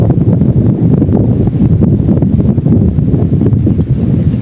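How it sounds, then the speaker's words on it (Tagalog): Steady, loud wind buffeting the microphone outdoors while fishing for tilapia, a constant low roar with gusty swells and no voices. "Medyo mahangin na."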